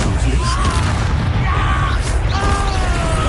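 Explosive Expulso spell blasts from the Hogwarts Legacy video game, a dense, continuous roar of booming bursts and rumbling impacts with shouted voices layered on top.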